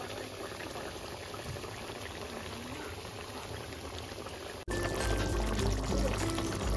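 Tilapia fish curry in a mustard-based gravy bubbles and sputters steadily on a medium flame, a dense close simmering that grows louder after a brief break, with one short spoken word.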